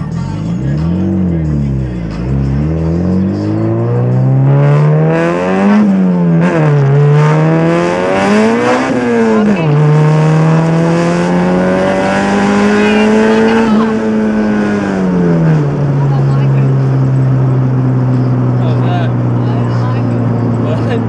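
Turbocharged Honda Civic making about 371 horsepower with a straight-through exhaust, revving up and down through several pulls with rising and falling engine tones, loud and close from inside the car, voices talking at times.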